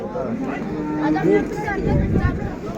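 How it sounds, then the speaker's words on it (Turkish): Cow with its calf at a livestock market in Göksun, Kahramanmaraş, lowing in a long, deep moo amid crowd murmur and nearby talk. "Buzağlı inek arkadaşlar."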